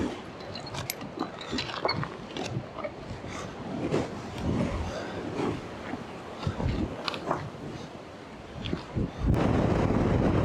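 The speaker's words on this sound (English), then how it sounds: "The wind's starting to pick up." Strong wind buffeting the microphone on a mountain hike in Morton National Park, gusty rumbling roar with rising and falling bursts and a heavier blast near the end, no speech.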